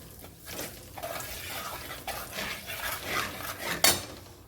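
Spoon stirring and scraping fish pieces coated with turmeric and red chilli powder in a metal dish, continuous close rubbing and clinking with a sharper clink near the end, no talk.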